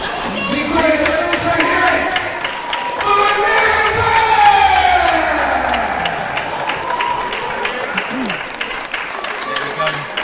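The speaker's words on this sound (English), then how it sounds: "a great big round of applause for Amira" Crowd at a live wrestling show in Kingsway Hall applauding and cheering for wrestler Amira, a sustained wash of clapping and shouts with a commentator's voice over the top.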